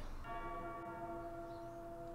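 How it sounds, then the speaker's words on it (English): Tolling church-style bell from a song, a single sustained ringing strike with long shimmering overtones decaying over a couple of seconds, fairly quiet and heard alone. "I hear the bells."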